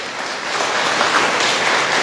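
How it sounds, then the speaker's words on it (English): An audience at a veterans' gathering in Saipan applauds in a dense, even patter of clapping that builds slightly and holds steady, heard alone without speech. "can we give him a round of applause?"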